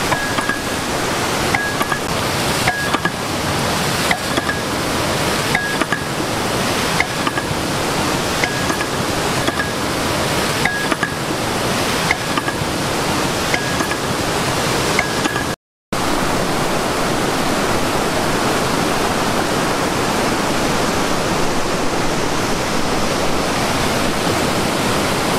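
Curug Bibijilan waterfall at Buniayu, Sukabumi roars as a steady, loud, broadband wash of falling water with no voices, broken only by a brief dropout partway through before the rush resumes.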